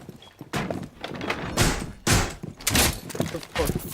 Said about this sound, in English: I'm closing the door.